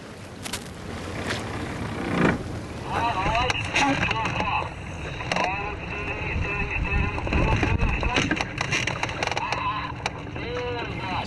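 A safety motor boat drives across open water during a sailing lesson, its engine a steady low drone with rushing water and wind buffeting, while voices call out over it throughout.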